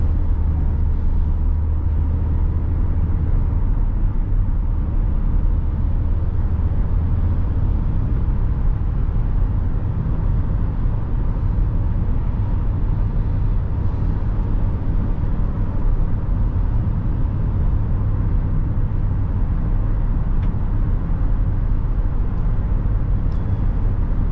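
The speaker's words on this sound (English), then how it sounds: "The only thing that I do hear is like some wind noise coming through the side, like under the arches of the wheels" Inside a 2017 Nissan Rogue SV while driving, a steady low rumble with a soft wind hiss around the wheel arches continues without a break, and no voices are heard.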